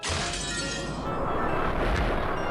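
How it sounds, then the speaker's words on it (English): A window is smashed in the visual novel game Umineko, a bright crash of shattering glass with fragments scattering, loud at the start and then tailing into a dense, crackling wash. "they heard the crash of yet another window being smashed"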